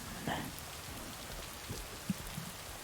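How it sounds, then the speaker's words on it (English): Steady rain patters on a surface, a soft continuous hiss with a few faint drips and light taps standing out. "We're back to the rain."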